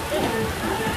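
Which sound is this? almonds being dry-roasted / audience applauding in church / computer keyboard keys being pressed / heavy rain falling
heavy rain falling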